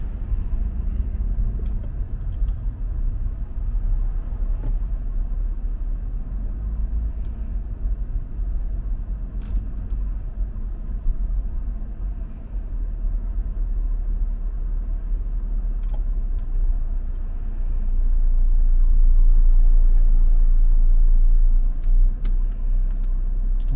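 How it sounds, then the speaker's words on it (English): A car creeps along in slow, stuck traffic, heard from inside as a steady low engine and road rumble that swells slightly toward the end, with no talk. "We are definitely stuck in traffic."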